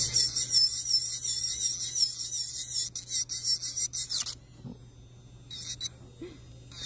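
A high-pitched electric nail drill whines steadily while working on acrylic nails, then cuts off, with a brief second burst of whirring a moment later.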